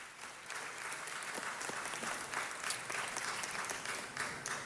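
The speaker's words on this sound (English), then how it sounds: "Let's give them a huge round of applause." An audience at a city council meeting applauds, a dense, even wash of many hands clapping that starts abruptly and carries on steadily, heard from within a medium-sized room with no voices over it.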